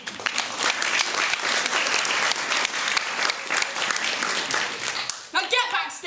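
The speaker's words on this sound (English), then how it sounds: "Clap, everyone. Show your appreciation for the cleaners." An audience at a house drama performance breaks into loud, dense applause that continues steadily, with voices mixed in toward the end.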